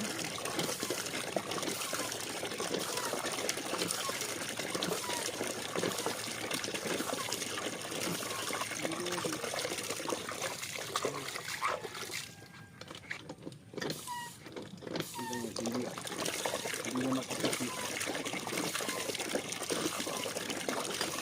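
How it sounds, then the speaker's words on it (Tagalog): Clear water flowing steadily from a tap or pipe, a continuous near broadband rush that briefly softens partway through before resuming at full strength, no voices. "Ang ganda po ng tubig, oh."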